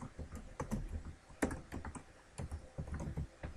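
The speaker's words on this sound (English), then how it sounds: "I'm going to type some text for you so you can see how it's different than in preview" Close keystrokes rattle on a computer keyboard, coming in quick irregular bursts of clicks and taps with brief pauses, while text is typed in a quiet room.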